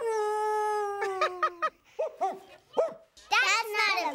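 A man imitates a dog with a long howl, then a series of short barks and yips, loud and close, followed by a quick burst of vocal sounds.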